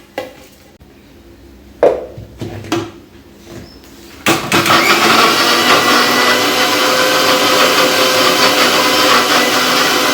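A mixer grinder grinding red masala paste whirs steadily and loudly from about four seconds on, after a few separate knocks and clatters at the start.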